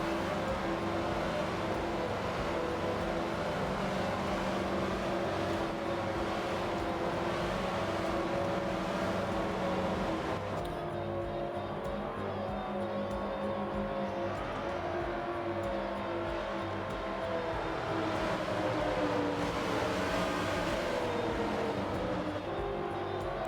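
Racing karts at Indianapolis Motor Speedway rev their engines in first gear while bunched up before a restart to green, making a steady, loud, dense engine drone throughout with no talk.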